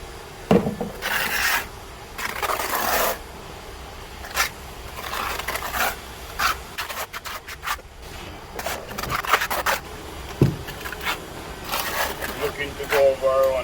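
A trowel scrapes and packs mortar onto concrete blocks, producing irregular rasping strokes and soft thuds at close range, with someone talking intermittently between the scrapes.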